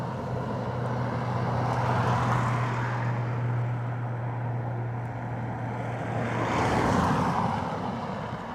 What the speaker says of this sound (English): Aer Lingus A330 next from LAX